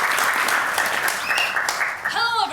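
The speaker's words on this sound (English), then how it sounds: "Give another huge round of applause" Audience applauding at a science communication competition event as a speaker is welcomed to the stage, a loud continuous wash of clapping with a voice rising over it near the end.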